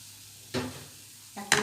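A condensed milk, sugar and coconut filling is stirred in a hot pan, a quiet low sizzle broken by two short scraping strokes, the second one louder.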